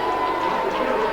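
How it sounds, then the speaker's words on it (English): Rugby league crowd at a Keighley versus Jubilee match giving a mixed roar of cheers and boos as Peter Rowe leads the Keighley team out, a steady, dense wash of many distant voices. "there's a cheer for Keighley from the Keighley crowd, and a big boo from the Jubilee crowd as Peter Rowe leads out the Keighley team"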